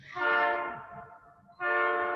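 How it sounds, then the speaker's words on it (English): A model train circling a track sounds a sustained, loud horn blast, fades briefly, then blows again, with no voices over it. "Here comes the train again."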